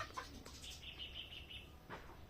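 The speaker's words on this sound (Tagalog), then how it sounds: "May manok na tumutunog." A faint chicken call carries from a distance, a short drawn-out squawk over low outdoor background noise.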